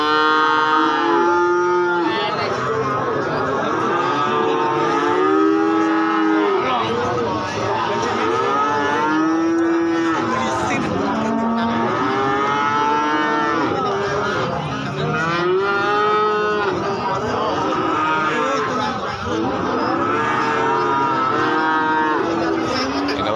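Cattle at the Gorang Gareng cattle market in Magetan, Indonesia, moo loudly and continuously, many overlapping drawn-out bellows from several animals nearby, with crowd murmur and market noise beneath.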